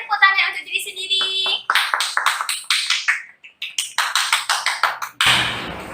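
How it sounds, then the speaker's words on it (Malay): Pupils in a classroom clap for themselves, a burst of sharp, fairly close claps in uneven groups with short pauses, coming after a bright chime-like tone and with some voices around them. "semua murid-murid tepuk tangan untuk diri sendiri"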